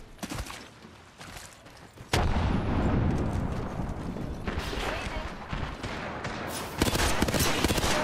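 Gunfire crackles in an Apex Legends match before a frag grenade blast bursts in sharply and loud, followed by continued firing and another sudden burst near the end, with a player talking over the action.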